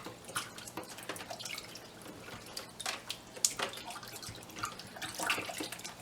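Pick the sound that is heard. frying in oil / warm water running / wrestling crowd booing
warm water running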